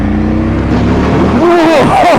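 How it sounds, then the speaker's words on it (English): An Aprilia RSV Mille R V-twin engine pulls through the mid-range on a test ride, a loud close drone with rising pitch sweeps, and a voice talks over it. "just that mid-range punch off of a V-twin engine"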